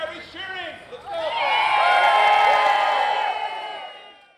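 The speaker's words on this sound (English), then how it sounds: "Can I get one? Are we cheering? Let's go!" A crowd gathered at the future arts centre in the former Bank of Montreal building in downtown Cornwall cheers and whoops loudly. The cheering swells after a second and holds for several seconds before fading slightly.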